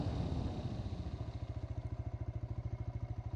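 A TVS Raider 125 ABS motorcycle engine idling after braking to a stop from 60, with a steady rhythmic chugging pulse after a brief louder rev at the start, fairly close.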